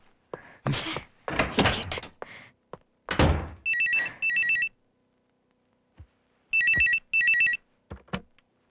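A telephone rings in short double bursts, two pairs of trilling rings separated by silence, with talk and a thud before them.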